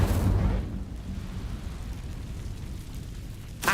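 An Incendio fire spell in Hogwarts Legacy lets out a sharp, booming blast, followed by a low rumbling roar that slowly fades, with a small burst at the very end.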